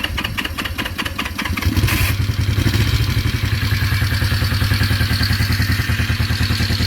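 A vintage Honda CL350 motorcycle starts without choke: a rapid cranking clatter catches after about two seconds and settles into a loud, close, steady idle with an even mechanical beat.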